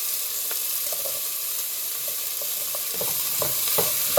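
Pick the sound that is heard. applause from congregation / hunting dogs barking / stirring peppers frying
stirring peppers frying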